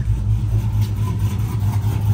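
A 2006-2010 Dodge Charger engine runs steadily with the hood open, a close, continuous low rumble heard alone.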